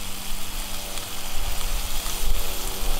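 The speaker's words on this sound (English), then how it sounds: "Look at the searing there." Meat sears on a barbecue grill with a loud, close, continuous hiss and crackle that swells and fades unevenly, heard alone without talk.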